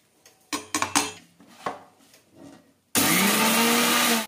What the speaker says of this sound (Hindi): सौंफ बिल्कुल ठंडी हो गई, अब इसको फटाफट पीस लेते हैं।